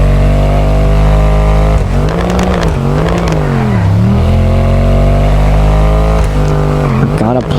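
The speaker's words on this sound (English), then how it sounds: "this car, they ain't gonna lie, it's loud as hell" A loud car engine revs in the GTA 5 video game, a heavy, close idle that rises and falls through several throttle blips, with speech over it.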